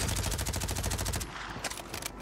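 MP5 submachine gun fire on Rebirth Island in Call of Duty: a rapid, loud automatic burst rattles for over a second, followed by a few more scattered shots close by.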